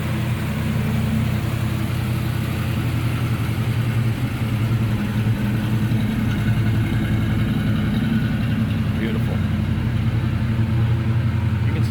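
A 1965 Chevrolet Malibu fitted with a 2400 stall converter idles steadily at close range, its deep, even engine rumble running unbroken and loud throughout with no voices over it.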